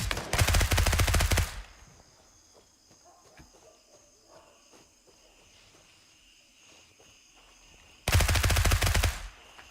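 Two loud bursts of full-auto MP5 submachine gun fire in the Gray Zone Warfare shooter, each a rapid, close rattle lasting over a second, separated by a quiet stretch with faint ambient sounds.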